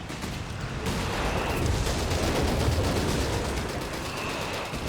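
Heavy gunfire and artillery rumble without pause on a Company of Heroes 3 battlefield, a dense, loud wash of crackling shots and booming impacts that holds steady throughout.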